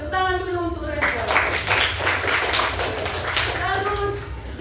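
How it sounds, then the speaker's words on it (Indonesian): Children in a classroom clap for a classmate: a burst of quick, rhythmic hand claps in the middle, with a voice speaking before and after. "Tepuk tangan dulu untuk Reuel."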